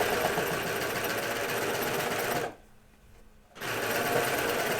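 A sewing machine runs steadily as it stitches a pair of stretchy Hudson pants, a close, fast mechanical whirr that pauses for about a second before resuming.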